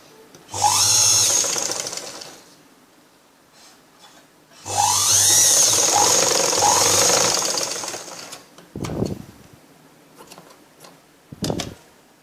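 A sewing machine stitches a blouse seam in two loud sustained runs, each about three to four seconds long with a steady whirring motor, followed by a few brief clicks and handling noises.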